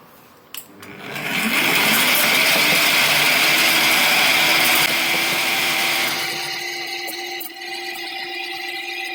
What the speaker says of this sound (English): let's see what happens if I put them through my mulcher first, before the blender